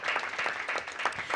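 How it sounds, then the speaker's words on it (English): Brief applause from the audience at a school board meeting, a soft, fairly distant patter of many hands clapping. "round of applause for Orange Unified."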